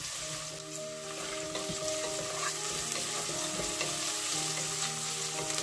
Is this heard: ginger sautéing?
yes